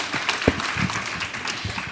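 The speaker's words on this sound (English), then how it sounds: "can we have a round of applause" Studio audience applause during a debate competition broadcast, a dense, fairly loud patter of clapping with a few sharper claps standing out and faint voices murmuring underneath.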